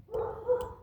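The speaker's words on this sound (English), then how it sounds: "apologize for the dog barking in the background." A single dog bark, a short yelping burst that rises and falls within a second, fairly close by.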